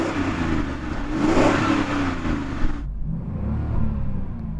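Bentley Continental W12 engine revving hard, loud and close, with a sustained roar that swells and then drops off sharply to a lower idle rumble.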